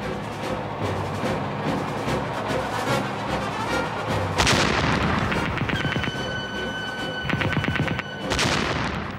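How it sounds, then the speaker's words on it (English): World War I tank gunfire in battle: repeated heavy booms and rapid firing shots over a dense, continuous roar of combat, loud and close, with sharp blasts around the middle and near the end. "halted, and opened fire."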